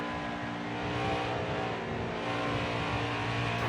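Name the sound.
race car engine revving, from a video game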